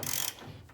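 A hand wrench ratchets in a short, quick burst of clicking while tightening a leaf spring bolt on a Jeep CJ, a single brief close-up run that fades to a quieter rattle.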